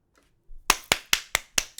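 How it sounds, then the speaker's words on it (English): An audience claps in a short burst: about six sharp, evenly spaced claps ring out close and loud, with no talking over them. "Let's clap it up, y'all."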